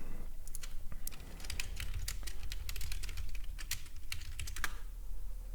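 Fingers tap steadily on a computer keyboard at a day-trading desk, quick irregular clicks in bursts with brief pauses, close and fairly quiet over a low room hum.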